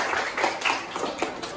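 Hands clapping together in a classroom, a short burst of scattered, fairly quiet claps from a group of students.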